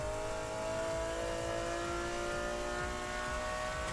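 A high-pitched McLaren F1 engine in a video game drones steadily, its revs holding and slowly shifting, with a thin transmission whine layered on top.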